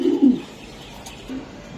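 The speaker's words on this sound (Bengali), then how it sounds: "একটা মাক্সি কবুতর, খুবই খাতারনাক কবুতর" A Maxi racing pigeon gives a short, low, throaty coo close by at the start, followed by a fainter second murmur against a soft background.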